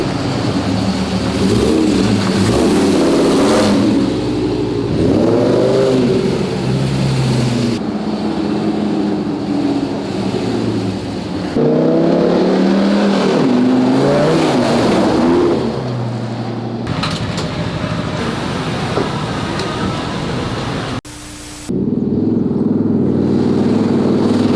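A JRT10 prerunner truck's engine revs loudly as the truck drives, rising and falling through the gears with the throttle, steady and close throughout.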